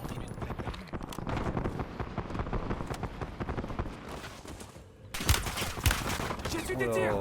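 Sharp bursts of gunfire from a battle royale video game pop in quick succession, growing louder toward the end, while players talk over the game audio.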